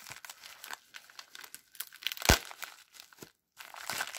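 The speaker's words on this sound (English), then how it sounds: "Now it's time to open the special Crazy Bricks package that I got." A plastic package of custom LEGO-compatible dinosaur minifigures is torn and crinkled by hand in bursts of crackling, with one sharp rip midway and brief pauses between.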